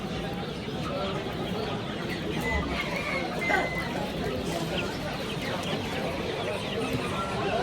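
Roosters fight and squawk at a rooster market, giving sharp clucks and cries over a dense crowd murmur, with people talking close by throughout.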